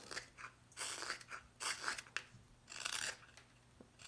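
A knife carves the keel of a wooden spoon, making a series of close, crisp scraping and shaving strokes in uneven bursts with short pauses between them.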